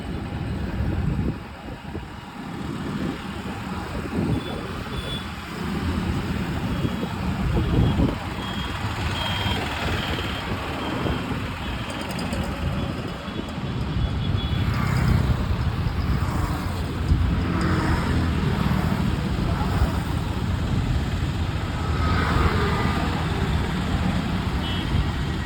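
Traffic flows under and beside a newly opened bridge in Madurai, with a steady loud roar of trucks and cars, repeated reversing beeps and occasional horns.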